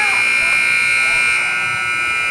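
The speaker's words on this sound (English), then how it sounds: "The extended buzzer." An extended scoreboard buzzer sounds at a high school basketball game, one loud, steady, unbroken tone lasting the whole stretch over faint crowd noise.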